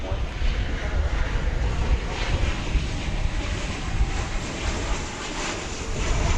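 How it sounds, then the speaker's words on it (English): A Qatar Airways Airbus A350-1000 arriving from Doha at DFW Airport gives a continuous broad jet roar mixed with gusty wind noise, steady and fairly distant throughout. "I think that will be an A350-1000 arriving from Doha"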